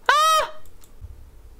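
A single loud squawking honk from a chicken in The Sims 4, sharp and close, followed by quiet rustling.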